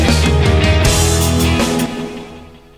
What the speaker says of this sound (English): that's how the toms sound separate